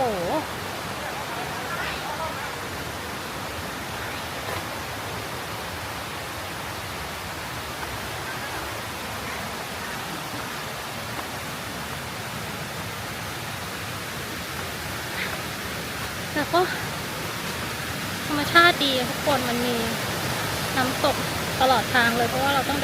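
Tat Mok waterfall in Phetchabun province, heard as a steady, close broadband roar of rushing water that runs through the whole stretch, with a few brief voices and exclamations rising over it near the end.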